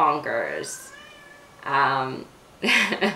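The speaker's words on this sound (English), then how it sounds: "Sorry, that's my cat." A pet cat meows loudly three times in short, separate calls, close to the microphone, with a person speaking briefly between the meows.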